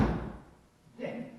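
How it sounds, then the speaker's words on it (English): A heavy Model T car door shuts with a single solid thump, a loud dull thud at the start followed by a quieter second knock after a short pause. "want you to hear the thump."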